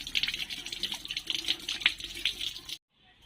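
Running tap water splashes steadily as fresh okra is rinsed under it, a continuous close hiss and gurgle that cuts off abruptly near the end, leaving quiet.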